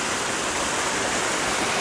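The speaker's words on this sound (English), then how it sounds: "got a nice waterfall here. Looks a bit man-made to me" A man-made waterfall in the Anakeesta mountain garden in Gatlinburg, a close, loud, even rush of falling water, broadband and unbroken for the whole moment.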